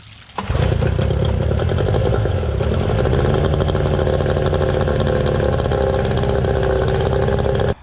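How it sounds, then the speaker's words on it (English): A Yamaha outboard engine cranks and catches after a brief pause, then settles into a steady, loud, close idle that runs on without stopping during a water pump test after an impeller change. "I'm going to give it a start, and we'll see if she'll pump water"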